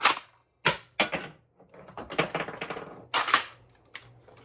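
A 3D-printed Nerf Breacher shotgun fires several sharp, loud shots with pauses between them, each followed by clattering mechanism and reload noise. No one speaks.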